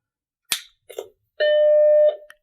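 A Mac Plus computer being switched on: a couple of short clicks, then a single steady startup beep held for under a second, clear and close, with no talking.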